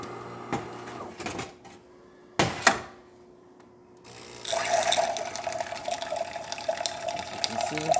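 A DeLonghi espresso machine dispensing hot water: after a few brief clunks and handling noises, a steady, close rush of flowing water sets in and continues to the end.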